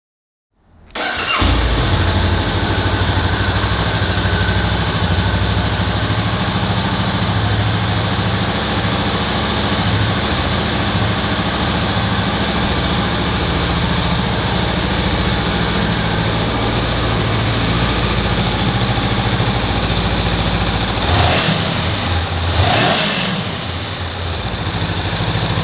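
A 2019 Honda CB500F motorcycle engine cranks and catches, then settles into a steady, loud, close idle that holds for over twenty seconds, with a couple of brief throttle blips near the end.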